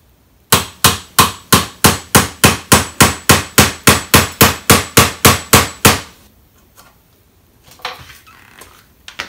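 Rapid, steady hammer blows on an aluminum Lexus IS sport pedal, about seventeen evenly spaced strikes, loud and close, followed by a few quieter clanks and handling noises.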